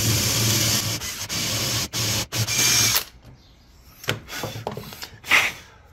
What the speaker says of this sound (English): I'm going to drill a hole with this brad point bit